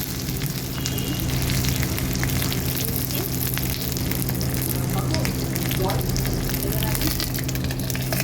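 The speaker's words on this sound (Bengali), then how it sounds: "এবার আমি পাথুরিগুলো খুব ভালো করে ভাজবো" Bengali paneer paturi parcels frying in hot oil, a dense, loud, continuous crackling sizzle that holds steady throughout, heard up close with no speech.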